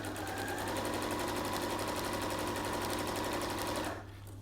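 Sewing machine stitching fabric, a fast, even mechanical rattle with a steady hum running for about four seconds before stopping abruptly, close and continuous with no voices.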